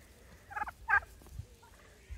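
A couple of brief turkey gobbles on a farm, close and fairly clear, over a faint low background.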